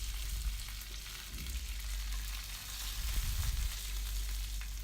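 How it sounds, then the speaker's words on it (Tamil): Mustard seeds and urad dal crackle and sizzle in hot oil for a tempering, a steady close frying hiss with a few soft thumps of stirring and no talk. "எண்ணெய் சூடானதும் கடுகு உளுத்தம்பருப்பு சேர்த்துக்கோங்க"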